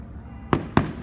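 Fourth of July fireworks explode in two sharp, loud bangs about a quarter second apart over a low background hum.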